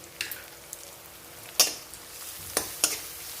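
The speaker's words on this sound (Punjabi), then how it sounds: "ਪਿਆਜ਼ ਤੇ ਲਸਣ ਅਸੀਂ ਚੰਗੀ ਤਰ੍ਹਾਂ ਭੁੰਨ ਲਿਆ ਵਾ" Onion with garlic and green chili paste frying in a pan for a ridged gourd sabzi, giving a soft steady sizzle broken by a few sharp scraping stirs, close and fairly quiet with no talking.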